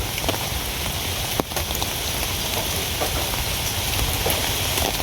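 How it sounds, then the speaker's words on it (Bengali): Steady rain pours down, a dense continuous hiss of drops hitting surfaces with no voices. "কিন্তু আপনার বৃষ্টি আছে ঠিকই"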